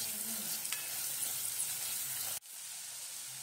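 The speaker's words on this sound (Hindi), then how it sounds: "हल्दी पाउडर, धनिया पाउडर, जीरा पाउडर और लाल मिर्च पाउडर, सभी को अच्छे से मिक्स कर लेते हैं" Ground turmeric, coriander, cumin and red chilli powder with asafoetida are stirred and fried in a pan, giving a steady close sizzle with soft scraping that cuts abruptly to a quieter, lighter hiss.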